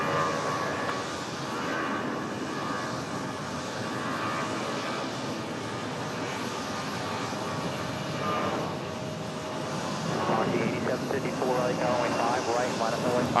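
American Airlines flight 1517 landing on runway 5 left at Raleigh-Durham International, a broad steady jet roar that holds throughout and swells louder toward the end.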